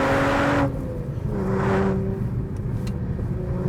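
A BMW 1 Series M pulls hard in third gear on an open road, its engine a steady low drone with a brief surge of intake noise, heard from inside the car without talk.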